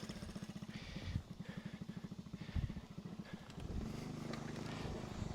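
A Honda Z50A minibike engine putters at a low idle with an uneven, chugging pulse, then settles into a steadier running drone; fairly quiet and nearby, with a voice speaking briefly over it.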